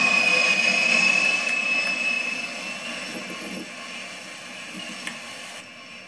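An airplane's jet engine roars loudly as it takes off in the video game Railyard, then gradually fades into a steady distant rumble, with no voices present.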